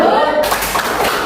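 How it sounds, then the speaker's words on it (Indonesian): A class of students claps for a student group, a brief burst of dense hand clapping with children's voices mixed in. "Kita berikan tepuk salut untuk kelompok"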